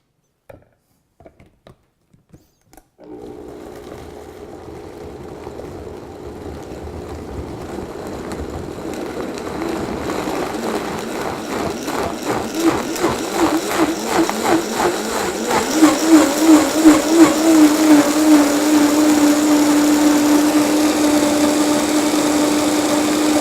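An electric blender whirs steadily as it blends a kitchen remedy with a little added water, starting after a few short clicks and climbing in pitch and loudness as it runs, loud and close with no talking.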